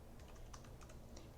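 Quiet, rapid clicking of keys on a computer keyboard, a brisk irregular burst of typing heard close and faint with no voices.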